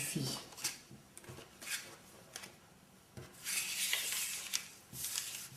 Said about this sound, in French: de mélanger les cartes